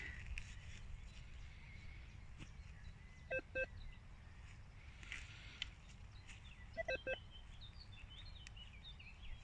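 Metal detector signalling over a clod of soil during a field dig, faint paired electronic beeps recurring a couple of times against quiet outdoor ambience with birdsong.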